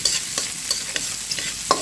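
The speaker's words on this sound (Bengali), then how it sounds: "এখানে দিয়ে দিচ্ছি ছোট একটা পেঁয়াজ, একদম কুচি কুচি করে কেটে।" Finely chopped onion hits hot oil in a pan with dried chillies, giving a steady close sizzle punctuated by quick scraping stirs of a spoon.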